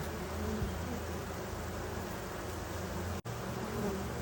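A continuous, close buzzing of honeybees hums evenly throughout, with a brief dropout near the end.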